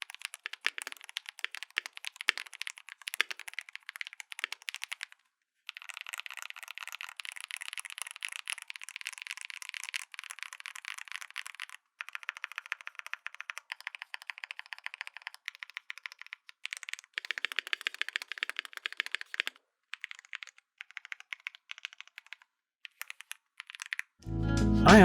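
Typing on an Ajazz mechanical keyboard with Huano Bananas switches and GMK keycaps: a rapid, continuous run of close, crisp key clacks with a few short pauses, ending in one loud thump.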